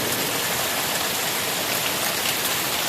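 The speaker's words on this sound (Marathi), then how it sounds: "पाणीसुद्धा खूप आलं आहे जोरदार वरून वाहत आहे" Rainwater rushing strongly behind a house after sudden heavy rain, a loud, dense, unbroken roar of flowing and splashing water filling the whole scene without any voices.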